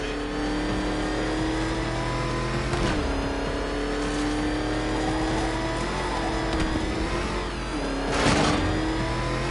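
A car engine revs hard and steadily in Batman: Arkham Knight, a loud continuous drone that rises and falls with a few sharp gear-shift dips and a brief surge near the end, with no speech.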